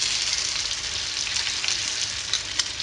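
A tofu burger sizzles on sprigs of rosemary in a hot frying pan, a steady close crackling hiss with occasional sharper pops.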